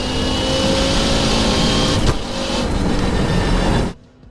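Stage 4 Nissan R35 GTR accelerating hard in a race against a 4WD Focus RS: a loud, sustained engine roar close by that ends abruptly after about four seconds.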